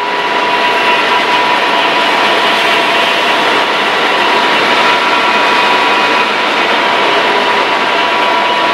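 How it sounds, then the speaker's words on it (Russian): A loud, steady John Deere 6135 tractor engine roars continuously up close, with a broad mechanical hum and whine that stays constant throughout. "Трактор John Deere 6135, агрегат TSEO"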